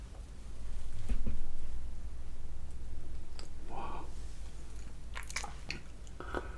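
Close-miked eating of cake in a dessert mukbang: soft, moist chewing and biting with wet smacks and a few small clicks, heard alone without speech.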